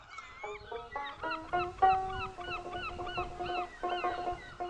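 Ducks on a lake, a series of nasal honking quacks in quick bursts that overlap and repeat over soft background noise, moderately near and with no talking.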